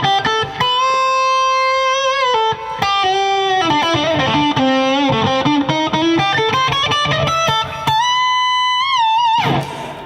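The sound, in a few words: guitar reverb effect mixed with direct signal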